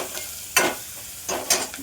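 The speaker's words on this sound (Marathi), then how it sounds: "मी आता फोडणी दिलेली आहे" Spices crackle in hot oil, with two or three bursts of louder sizzling and scraping over a quieter background hiss.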